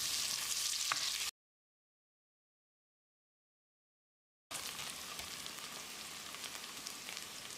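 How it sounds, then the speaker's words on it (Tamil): Sliced large onions sautéing in groundnut (peanut) oil for mutton curry rice, a bright steady sizzle that cuts out to silence for a few seconds and then resumes. "வெங்காயத்தை செவந்து வர அளவுக்கு வதக்கிடலாம்."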